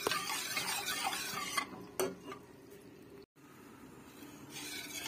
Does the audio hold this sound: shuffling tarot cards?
no